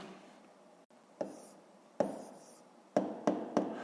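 Handwriting an answer on paper, a pen scratching and tapping in short strokes with brief pauses between them, close and fairly quiet, with no talk.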